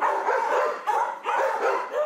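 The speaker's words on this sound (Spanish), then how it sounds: "estás participando y ladra el perro" A dog barks in a home during an online meeting, about three loud, close barks in quick succession with short gaps between them.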